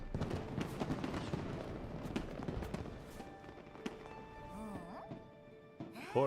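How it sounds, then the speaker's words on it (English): Fireworks go off in a dense, rapid series of sharp cracks and booming bursts for about four seconds, then thin out as tonal, voice-like sounds rise near the end. "Fireworks!"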